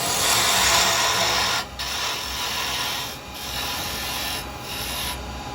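Carbide chisel cutting wood on a lathe while turning a mushroom shape, a steady loud rasping scrape that continues with a few brief breaks.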